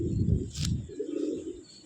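A Giribaj pigeon in a loft gives a low, rumbling coo in two short bursts separated by a brief rustle, close and fairly loud.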